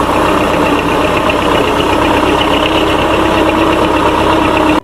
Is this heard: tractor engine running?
yes